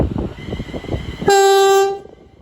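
A Class 350 electric passenger train rumbles close by departing Watford Junction, then a loud two-tone horn blares for under a second before fading.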